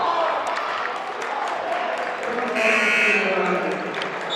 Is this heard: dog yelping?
no